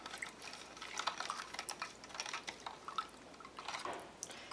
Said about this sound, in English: I'm just going to pour the solution over them